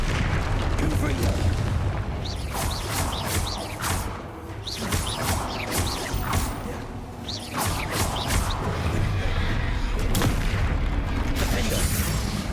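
Repeated Confringo fire-blast spell explosions in the Hogwarts Legacy video game, dense booming bursts and crashes recurring every second or two over a continuous loud battle din, with a voice speaking throughout.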